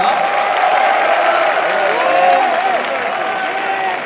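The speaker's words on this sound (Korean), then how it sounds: "박수 부탁드려요." Applause from an outdoor audience at a military morale concert in Hongcheon, a steady wash of clapping with crowd murmur and a voice over it, sustained and fairly loud throughout.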